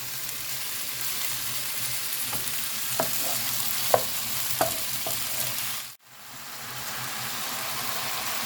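Chorizo fries in a pan with peppers and courgette, a continuous close sizzle broken by a few sharp utensil clicks; the noise cuts out briefly, then the hiss swells back.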